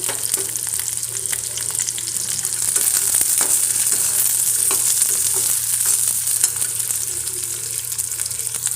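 Garlic cloves sizzling and frying in oil in a pan for garlic chutney, a steady close crackle with occasional stirring scrapes, no talking.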